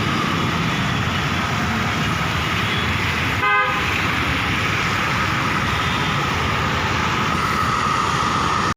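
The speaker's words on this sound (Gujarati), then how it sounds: "ટ્રેન આવી બોલો" A train arrives at a station in rain, rumbling past with a steady roar, and one short horn blast sounds about midway through.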